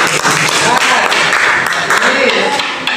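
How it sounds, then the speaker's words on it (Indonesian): A classroom audience claps for a student after her Quran recitation, dense and steady applause close by, with voices mixed in. "tepuk tangan untuk Mbak Denis"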